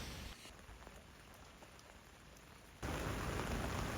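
Steady rain falls along a coastal walking route in northern Japan, a dense even hiss that jumps abruptly louder and heavier for the final second or so, with no voices.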